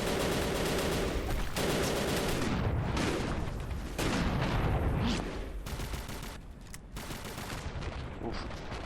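Rapid gunfire and heavy grenade blasts from the war video game M.I.A.: Mission in Asia, a loud, dense barrage of overlapping shots and booms that barely lets up across the clip.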